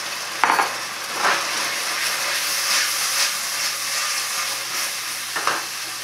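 Loud, steady sizzling of tofu frying in a hot pan, with a few soft stirring clunks.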